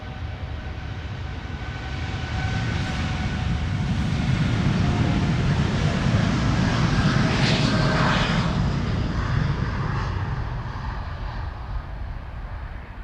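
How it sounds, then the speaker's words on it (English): An American Airlines Boeing 787-8 Dreamliner departs Amsterdam Schiphol for Dallas Fort Worth, a broad steady engine roar swelling over several seconds, holding loud, then easing off as the jet climbs away. "American Airlines flight 221 to Dallas Fort Worth, Texas. It is a 7878 Dreamliner"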